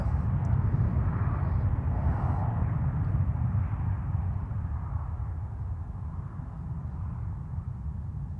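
A steady, moderately distant jet-engine whine and rumble from an easyJet airliner rolling along the runway after landing at Zurich Airport, continuous and gradually easing off, with no talking.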